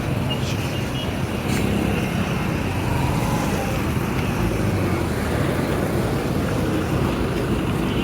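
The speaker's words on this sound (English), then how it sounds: "So that bus is exiting the city at the moment." A bus pulls out of the city along a busy Kampala road near the start of the Northern Bypass, its engine rumble blending into steady, loud traffic noise with a constant low roar throughout.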